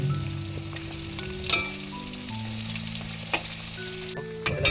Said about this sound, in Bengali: এইভাবে আলুগুলো লাল লাল করে হালকা করে ভেজে নেবেন